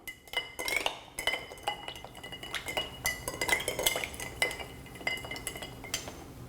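Ice being stirred in a mixing glass for a Monte Carlo cocktail, a bar spoon rattling and clinking the cubes in quick bright taps, close and fairly quiet, with no talking.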